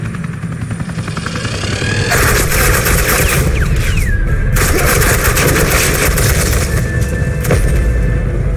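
Suppressing gunfire from Agent Quinn in Batman: The Enemy Within, a loud, sustained rattle of rapid shots with a heavy rotor-like drone underneath, continuing unbroken and close throughout.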